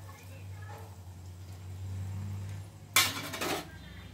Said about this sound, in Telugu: అలాగే ఇప్పుడు ఉసిరికాయలు వేసుకుంటున్నాను.